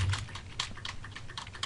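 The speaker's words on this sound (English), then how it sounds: "Why are you key mashing?" A computer keyboard being mashed during a Pokémon Ruby game, a rapid burst of close, clattering keystrokes with irregular rhythm and no voices.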